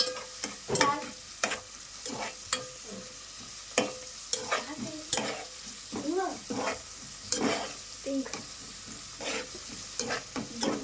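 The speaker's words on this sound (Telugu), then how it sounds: "గోల్డ్ కలర్ వచ్చే వరకు అలా కలుపుకోండి." Curry seasoned with turmeric and salt sizzles and fries in a pan while a spoon scrapes and stirs it in steady, repeated strokes, close and fairly loud throughout.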